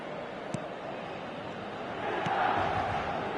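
Stadium crowd ambience in an eFootball 2025 match, a dense continuous roar of many voices that swells slightly louder in the second half, with a couple of faint sharp accents.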